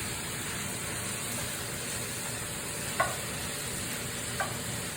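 Food fries in a wok for a quick homemade Chinese curry meal, a faint, steady sizzle running throughout with two brief clicks of stirring utensils against the pan.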